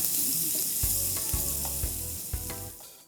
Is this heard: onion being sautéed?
yes